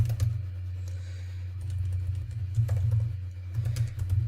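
Fast typing on a computer keyboard, a steady stream of close soft key clicks over a low background hum.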